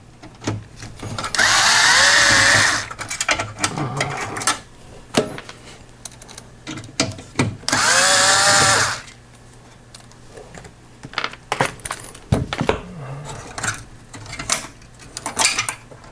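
Screws and connectors being removed from the circuit board of a Sansui AU-11000 amplifier, heard as close clicks, taps and scrapes with two long, loud whirring bursts of a powered screwdriver.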